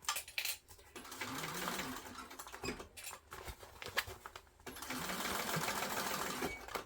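A sewing machine runs a straight seam on a backpack, with a quiet, continuous rapid patter of the needle and small clicks behind it, heard close up with no talk.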